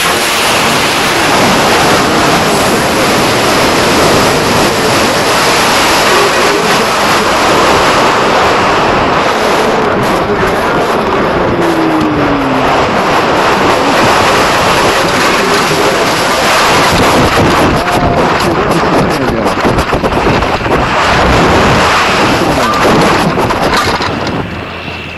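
A two-stage high power rocket launches at a rocket range, its motor producing a steady, wide roaring hiss that holds loud and unbroken for about twenty-five seconds before fading slightly at the end.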